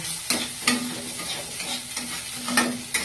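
Egg sizzling in a pan while being stirred: a steady close frying hiss with rhythmic scraping strokes of a spatula roughly every half second, and no voices.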